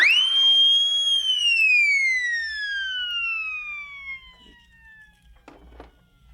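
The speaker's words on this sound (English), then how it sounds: "the siren that you're most familiar with is when they came out with Black Maria" A police wagon siren effect rises quickly into one long wailing tone that slowly falls in pitch and fades over several seconds, with a few faint taps near the end.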